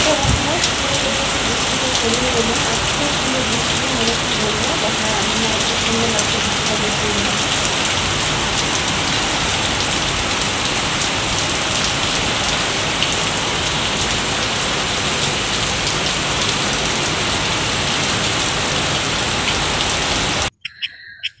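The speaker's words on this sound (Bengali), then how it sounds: "মানে কি সুন্দর মুষলধারে বৃষ্টিটা পড়েই যাচ্ছে।" Heavy monsoon-style downpour drumming steadily and loudly on surfaces nearby, an unbroken wash of rain noise that continues for the whole stretch before a sudden cutoff at the end.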